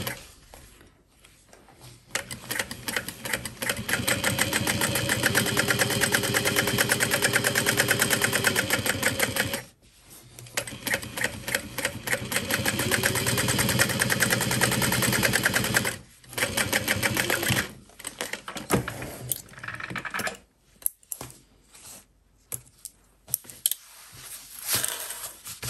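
A sewing machine bastes a seam on a backpack, running in long fast rhythmic stitching bursts with short pauses between, close and steady.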